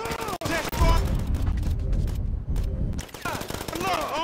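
Video game gunfire in a GTA V gunfight gives loud, rapid bursts of shots that crack and boom, with voices shouting over the fighting.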